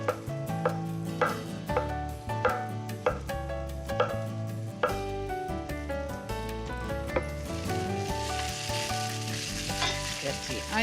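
Onions frying in a pan with potatoes, a steady close sizzle punctuated by repeated clinks and scrapes of stirring utensils against the cookware.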